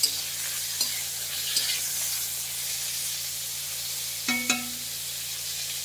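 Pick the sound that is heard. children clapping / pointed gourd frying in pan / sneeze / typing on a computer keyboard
pointed gourd frying in pan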